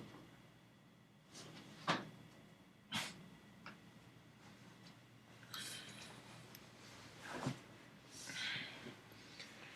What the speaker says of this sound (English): let me crack this window open a bit more